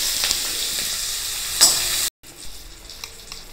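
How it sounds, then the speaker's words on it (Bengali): Onions dropped into hot oil with cumin seeds crackle in a loud, close sizzle. One sharp clink sounds partway through, then the audio briefly cuts out before a quieter sizzle returns, with no voices. "এবার পেঁয়াজ দিয়ে দিলাম"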